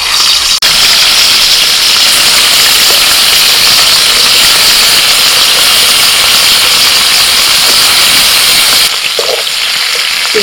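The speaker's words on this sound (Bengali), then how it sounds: "তেল গরম হয়ে গেছে, চিংড়ি মাছ ভেজে নেবো।" Prawns frying in hot oil: a loud, steady, dense sizzle and hiss that goes on without a break, close up, with no voices over it.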